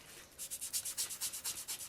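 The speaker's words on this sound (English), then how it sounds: "probably scuff up the napkin a little bit more because it's pretty white" Paper napkin being scuffed and rubbed while its edges are inked, a quick run of about a dozen soft, rhythmic scratchy strokes, close and fairly quiet.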